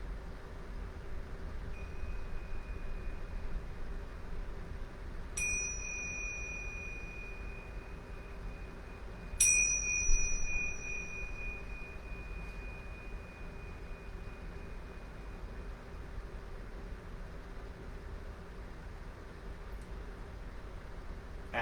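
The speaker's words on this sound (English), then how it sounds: "I'm going to ring these bells 3 times" Two clear bell strikes in a yoga class, each a bright ringing tone that rings out slowly over steady low room hiss; no voices.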